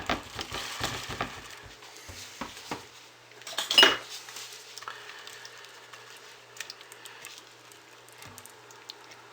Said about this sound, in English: So let's stir our embeds in.